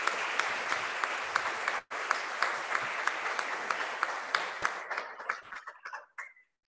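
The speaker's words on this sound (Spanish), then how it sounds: "Fuerte el aplauso." Applause from a graduation ceremony audience: steady, dense clapping with a brief cut partway through, then thinning to scattered claps before fading out.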